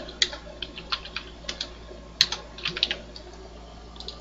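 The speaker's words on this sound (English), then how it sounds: "if I type the word" Typing on a computer keyboard while searching recipes in the modded Minecraft pack Sky Factory 2.5, a loose run of close, light key clicks with a few quick bursts and short pauses, no voices.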